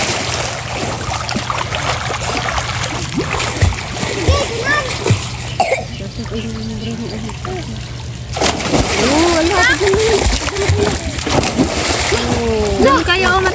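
Children splash water at someone swimming in a pool during an overnight birthday swim, with repeated close, loud splashes and sloshing under constant excited chatter, shouts and a cough.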